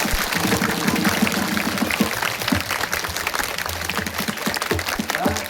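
An audience claps at a kirtan in Degaon Bu, Ardhapur, Nanded: continuous, dense, fairly loud applause fills the whole stretch without a break.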